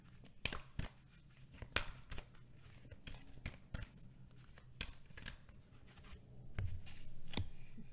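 An oracle card is drawn from an Angels of Atlantis deck: close, crisp card shuffling and sliding snaps, irregular clicks and rustles of card stock over several seconds, no speech.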